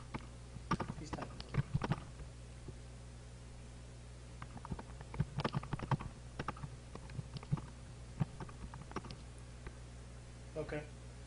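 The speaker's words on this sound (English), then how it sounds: "He's typing." Keyboard typing during a Mega Man X SNES race stream, with scattered clusters of quick clicking keystrokes at moderate distance, broken by pauses, over a steady hum, with talk in the background.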